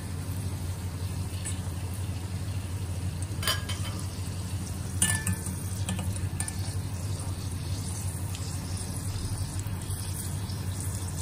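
Okra tempura fries in cooking oil with a steady, close, crackling sizzle and faint occasional utensil clinks, with no voices.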